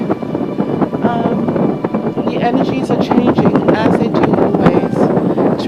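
Wind in Waterloo Park buffets the microphone with a rough, continuous rumbling roar, loud and close, while a voice talks underneath throughout.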